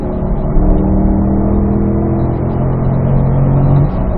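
A Corvette engine pulling hard on a race track at performance driving school, a loud close steady drone with rising engine tones as it accelerates through the gears, no talking.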